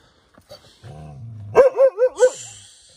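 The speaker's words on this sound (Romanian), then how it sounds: "Aici e un câine rău, care dă să mă muște mereu." Aggressive dog snarling with a low growl, then a quick run of four loud, close barks followed by a high yelp, with no talk.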